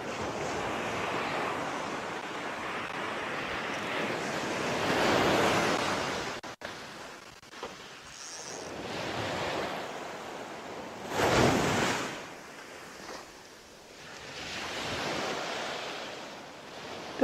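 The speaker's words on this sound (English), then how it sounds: "Tide is just racing in like." Ocean waves from a fast incoming tide wash onto the shore during shore fishing, making a steady, hissing surf roar that swells and fades in broad surges, with wind buffeting the microphone.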